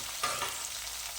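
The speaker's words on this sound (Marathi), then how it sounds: "थोडा वेळ आपल्याला या तुपामध्ये आणि तेलामध्ये परतून घ्यायच्या आहेत भाज्या चांगल्या" Mixed vegetables sautéing in ghee and oil for a hotel-style veg kurma, a steady close sizzle with a brief louder scrape of stirring near the start.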